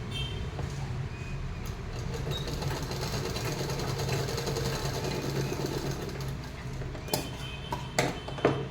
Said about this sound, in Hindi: यहाँ पे सिलाई पक्की करेंगे यहाँ पर